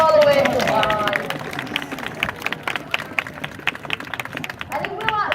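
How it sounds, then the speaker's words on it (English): A crowd at a sea lion show in Flamingo Land claps for a performing sea lion, scattered hand claps rising and thinning over several seconds amid faint crowd murmur, with a voice briefly heard near the start and end. "So please do give him one final round of applause."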